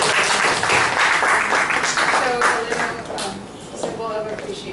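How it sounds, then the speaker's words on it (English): Audience applause for a speaker at a sustainability leadership event, a dense, steady wash of many hands clapping that holds loud throughout, with a voice speaking faintly over it toward the end. "big applause to you"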